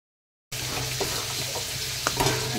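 Spice masala frying in a pan, a steady hissing sizzle that starts abruptly after a brief silence, with a couple of soft stirring taps, close and fairly quiet.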